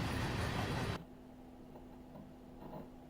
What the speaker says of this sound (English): Here we see a train in Cowan, Tennessee on the route that I have been creating in Train Simulator.